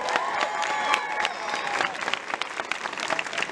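A studio audience claps steadily in dense, sustained applause that stays even throughout, heard from within the room.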